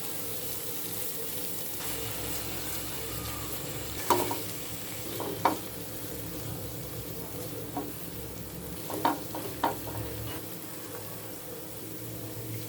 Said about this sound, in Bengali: মশলাটা ভালোভাবে ভেজে নেব।